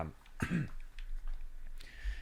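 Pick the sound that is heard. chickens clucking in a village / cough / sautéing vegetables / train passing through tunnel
cough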